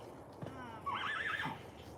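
A horse with back-leg trouble gives a clear whinny from close by, a rising and falling neigh lasting about half a second amid faint background noise and a soft clop.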